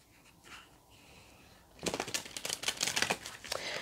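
Quiet room tone, then a crisp, rapid riffling of tarot cards being shuffled close by, lasting a couple of seconds.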